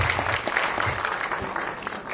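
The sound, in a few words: audience applause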